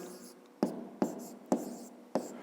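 A pen scratches out a math answer by hand on paper, four short strokes in an irregular rhythm, close and fairly quiet with no clear talk.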